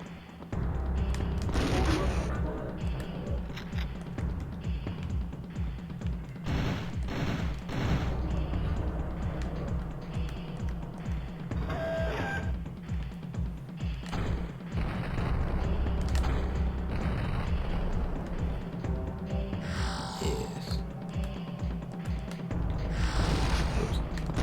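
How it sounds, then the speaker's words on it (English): Rocket launcher in the Turok: Dinosaur Hunter video game firing volleys of four rockets each, repeated loud booms and blasts in rapid clusters over continuous game noise, with someone talking over parts of it. "They're single rockets, which are actually 4, but each one when fired is actually 4 rockets"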